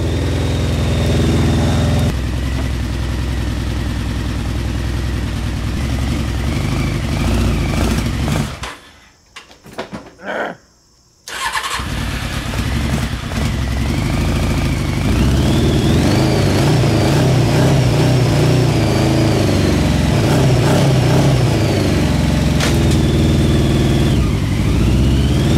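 A Honda CBR 600 engine fitted to a home-built reverse trike runs steadily up close during a clutch test, drops out briefly midway, then returns with rising revs and a climbing whine.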